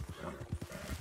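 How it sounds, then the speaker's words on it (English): Horse hooves clip-clop in a video game, a short run of evenly spaced low thuds at moderate loudness, heard alone without talk. "we've gone through this horse."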